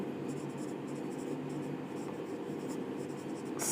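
Writing on a board during a Class 10 maths lesson on triangles, a faint scratching in irregular strokes under a steady hum of room noise.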